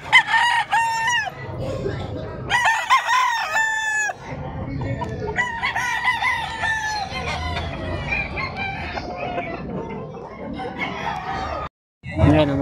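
A stag kanawayon rooster crows loudly and close by, with several drawn-out crows and short clucking bursts, and someone talks intermittently between them.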